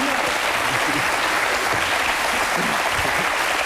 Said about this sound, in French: il a mérité ses applaudissements